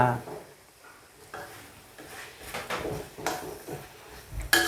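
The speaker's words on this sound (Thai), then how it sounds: "นำกากหมูของเราลงคลุกเข้าเลยครับ คลุกเข้าให้เข้ากัน" Pork cracklings are tossed in a hot pan with red curry chili paste, long beans and chilies. A gentle sizzle runs under repeated stirring scrapes and clanks from a utensil, with a sharper clatter at the end.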